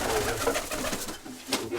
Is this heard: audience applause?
no